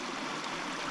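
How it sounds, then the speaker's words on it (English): A small creek in Kings Canyon National Park near Marvin Pass flows with a steady, close, bright rush of water, continuous and alone. "Beautiful little creek here."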